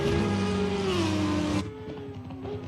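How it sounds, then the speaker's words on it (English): A race car engine in an online race at the Hungaroring drones with a strong tonal note that rises and falls in pitch, then cuts abruptly to a quieter, thinner engine tone. "Have a listen to this car."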